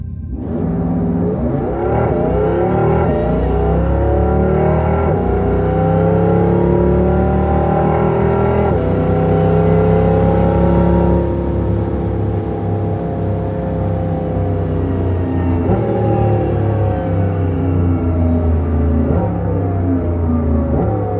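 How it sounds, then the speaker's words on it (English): Simulated electric gear-shifting sound from the Porsche Taycan eShift mode, a continuous engine-like whir climbing in pitch through several stepped shifts, then easing down, loud and steady with no voices. "that's that reinterpreted Porsche electric sound mode. It's supposed to convey an authentic dynamic gear shifting sensation."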